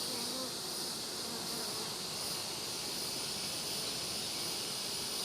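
Honeybees buzz steadily around a hive, a dense, continuous hum with a high whining edge that holds level throughout, with no voices.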